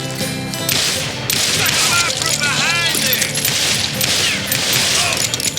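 Rapid gunshots and whip-like cracks from a Western shootout in Call of Juarez Gunslinger, sharp and dense over a busy, loud background, with voices talking over parts of the firing.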